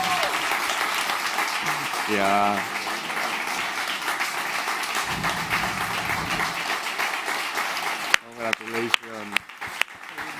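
Audience applause for an award winner at a startup summit stage, a broad steady wash of clapping lasting most of the clip, with a voice speaking over it near the start and middle and in brief bursts toward the end.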